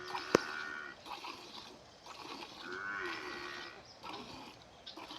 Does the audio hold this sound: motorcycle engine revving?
no